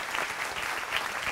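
A church congregation applauds steadily, a close, even patter of many hands clapping at moderate volume without a break.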